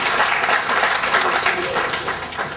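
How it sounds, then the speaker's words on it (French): Sustained applause from an audience of retirees at a New Year's greetings and gift ceremony, dense, even clapping throughout a few seconds with little variation. "Applaudissez-vous."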